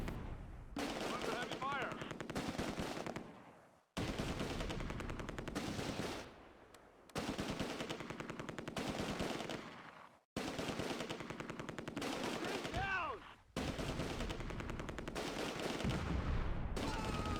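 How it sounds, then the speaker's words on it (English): Machine gun fire in the World War II strategy game Close Combat: A Bridge Too Far, a .30 caliber gun firing long rapid bursts separated by brief pauses, loud and close, with faint whistling shell sounds in places. "The 30 caliber machine gun targets a Schützen squad in one of the buildings to the south."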